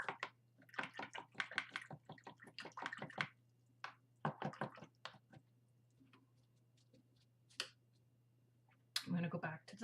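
A paintbrush is rinsed in a water jar during an acrylic painting session, giving quick bursts of rattling clicks and splashy taps against the container. A brief voice comes in at the very end.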